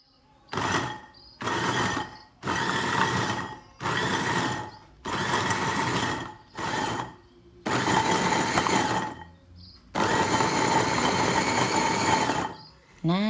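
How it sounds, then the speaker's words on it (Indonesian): A 350-watt electric garlic peeler and chopper runs in repeated bursts of loud motor whirring, about eight pulses of one to two seconds separated by short pauses. "Dan ini dia mesinnya 350 watt ya. Oke, langsung aja kita kupas."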